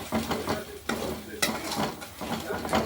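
A spoon stirs turmeric through a cooking dish in a home kitchen, making steady close scraping and mixing strokes over a soft sizzle, with no talking.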